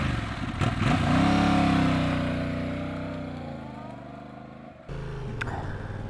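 Yamaha R7 sport motorcycle engine on the road, revving up sharply early on, then holding a steady drone that slowly eases off, with a brief dip before it picks up again, loud and close.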